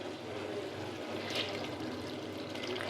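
Washed, soaked red lentils go into a pan of cooked spice paste, a soft wet pouring rush over a quiet steady background hiss, faint and close with no talking.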